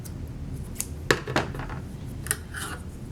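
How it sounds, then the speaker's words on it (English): Scissors snipping off extra yarn after tying a knot in a craft project, a couple of quick close snips with light rustling, quiet surroundings and no talk. "And then cut the extra off."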